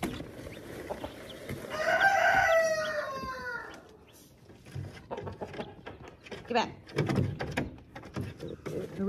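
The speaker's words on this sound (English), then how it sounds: "The roosters want to know what I'm doing." Roosters crow on a farm with a long, clear call up close, followed by scattered clucking and rustling from fowl, along with soft nearby movement.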